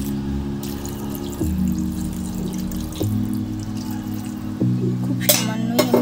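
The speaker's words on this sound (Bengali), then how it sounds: "এবার আমি অল্প জল অ্যাড করে দেবো।" A little water poured into a bitter gourd and potato curry in the pan, a steady close splashing and trickling pour with a few shifts in flow, followed by brief clatter at the end.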